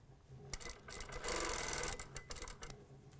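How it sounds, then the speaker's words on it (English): A sewing machine stitches down the front zipper of a vest in a quiet, close buzzing run, starting and stopping in short bursts with a longer steady stretch in the middle. "Stitching all the way down."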